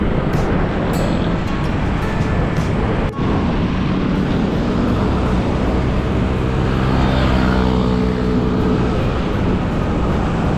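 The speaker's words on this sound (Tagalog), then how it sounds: "Itong tren na to ang exciting eh." A train rumbles steadily past nearby, a continuous loud roar with rising mechanical whine toward the end.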